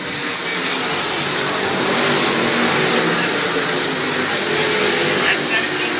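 Midget sprint race cars come out of turn four in a pack, a dense continuous engine roar at steady volume from mid-distance, with a commentator talking over it.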